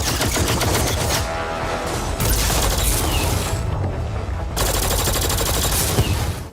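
Weapon fire in Mass Effect Andromeda, loud and dense sustained automatic bursts with booming impacts, broken by brief lulls and then resuming, with no talking.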